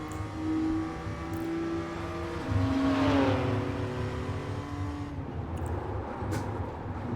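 BMW M2 CS engine in the iRacing sim at Virginia International Raceway North, a steady close drone held on part throttle with the pitch dipping and sliding before settling back to a constant hum.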